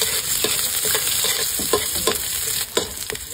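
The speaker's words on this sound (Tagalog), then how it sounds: "Ilalagay na din natin itong bawang at saka sibuyas mga mi" Garlic and onion sauté in a hot pan, a loud close continuous sizzle with light crackling and a few soft stirring scrapes, no voices.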